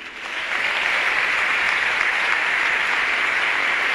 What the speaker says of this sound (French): Viens, on acclame le Seigneur pour lui.